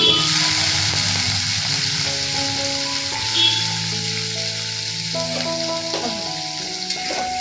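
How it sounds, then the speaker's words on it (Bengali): Paneer pieces fry lightly in hot oil in a kadai, giving an even, close sizzle throughout. Steady melodic background music plays underneath. "পনিরগুলো এখন হালকা ফ্রাই করে নিব"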